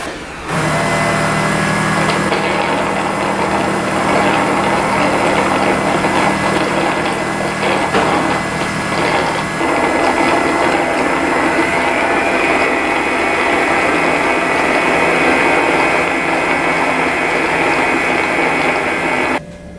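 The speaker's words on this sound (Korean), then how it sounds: "청소 중에도 걸레 세척을 누르면 스테이션으로 돌아가 물 걸레 세척이 됩니다" An Uwant Edison 2 Plus robot mop station washes its mop with a loud, continuous mechanical whirring and rattling drone, joined by watery swishing, that runs steadily for about twenty seconds before stopping.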